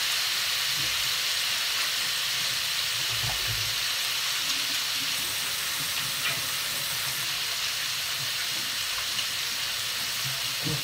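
Running kitchen tap water pours steadily while food is rinsed, a continuous close hiss with faint clinks and handling underneath.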